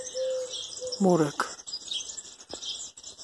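Sparrows chirp from a thicket of climbing knotweed, a busy chatter of short, bright tweets near and far, with one louder close burst of calls, while a person speaks briefly.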